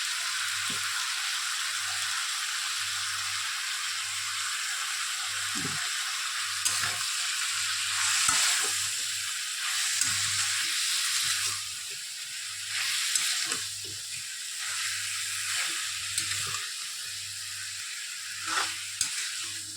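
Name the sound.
stirring spice paste frying in a pan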